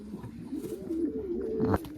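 American pigeons coo nearby in one low rolling call that swells and ends abruptly, alone and fairly quiet.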